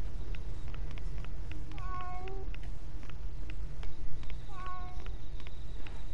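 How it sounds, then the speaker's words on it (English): A cat in a PS4 video game meows in two short bursts over a steady, noisy game background, fairly faint and close. "Cat's here."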